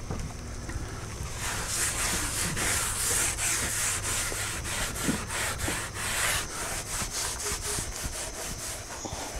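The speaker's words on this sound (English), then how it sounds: "Just pour this on there generously and then just rub it in." Steady scuffing and rubbing as boiled linseed oil is worked by hand into the wood of a homemade patio bar, a close, continuous abrasive swishing with rhythmic strokes and no talk.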